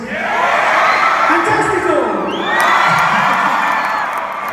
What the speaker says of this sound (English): can you just keep cheering if I say Spanish words?